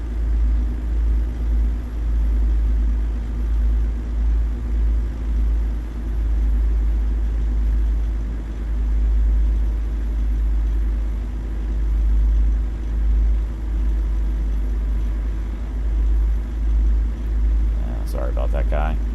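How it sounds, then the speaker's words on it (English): Low, steady rumbling drone of a heavy-haul truck engine in American Truck Simulator, continuous and fairly loud throughout, with a brief faint tick near the end. "The kind of rumbly drone sound is getting to me a bit."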